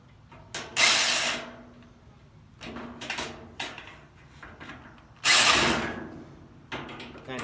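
A power drill drives screws while furniture is assembled, with several short bursts of whirring and grinding separated by quiet gaps, two of them noticeably louder and longer.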